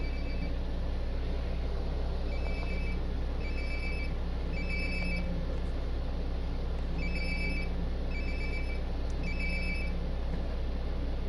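In Life is Strange: Before the Storm, a cell phone rings in short repeated electronic bursts, moderately loud over a constant low ambient drone, with no voices heard.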